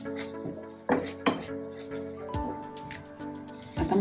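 Vegetables being stirred with a spoonful of ghee in a pan for rava vegetable biryani, soft scraping and clinks of a spoon against the metal pan at irregular moments, fairly quiet.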